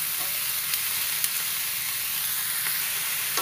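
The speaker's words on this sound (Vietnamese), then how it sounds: "Hành dậy mùi thơm thì mình cho cái nấm đùi gà vô mình xào trước" King oyster mushrooms stir-fried with aromatic scallions over medium heat in a pan give a loud, steady sizzle and hiss, with a few faint clinks of a utensil, no talking.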